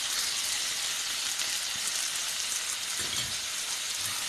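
Onions and tomatoes with salt and red chili powder fry in a pan, giving a steady, dense sizzle throughout with a few soft stirring scrapes near the end.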